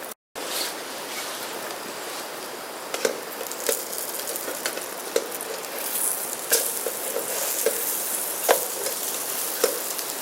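Caribbean Spam slices sizzle steadily in a pan over a low flame on a Trangia stove, a continuous close crackle broken by a few light scrapes and clicks.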